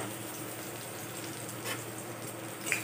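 Mustard seeds, cumin and garlic frying in hot oil in a home kitchen, giving a faint, steady sizzle with soft crackles and one small pop near the end.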